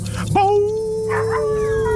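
A single dog howl used as a midnight sound effect: one long, steady, rising-then-held wail that sounds close and loud, sustained to the end over a faint low background.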